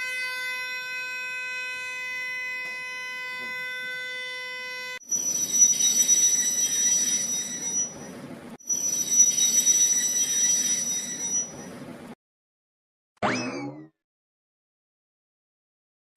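A train arrives at a railway junction: a sustained horn-like tone gives way to two loud bursts of rumbling rail noise, then a brief sharp squeal of wheels, with no talking.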